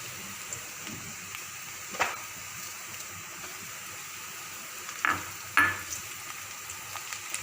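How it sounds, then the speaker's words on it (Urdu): Chopped onion and cumin seeds fry steadily in a pan for dal, a continuous close sizzle with a few louder crackles and stirring scrapes. "اب ہمارا پیاز ہلکا سا فرائی ہو چکا ہے، اب ہم اس میں زیرہ ایڈ کریں گے۔"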